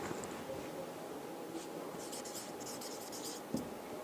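A marker or chalk scratches words onto a classroom board in short, quiet strokes, with faint room noise in the background.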